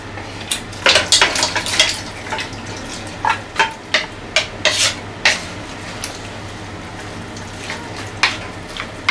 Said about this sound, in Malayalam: ഇനി നമുക്കിത് എല്ലാം കൂടെ മിക്സ് ചെയ്യാം.